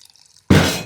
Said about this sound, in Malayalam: ഇത് നമുക്ക് കുറച്ച് വെള്ളം ഒഴിച്ചിട്ട്